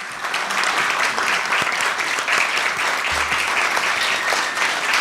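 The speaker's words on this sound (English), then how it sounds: "Big applause for all of them." Big applause for past honorees at a Rotary Club Citizen of the Year ceremony in San Miguel, continuous dense clapping from a room full of people, even and loud from start to finish.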